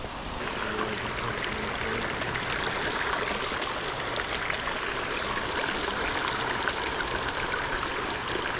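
A small creek flowing on a spring day, with steady, even rushing and trickling water heard close by and no voices.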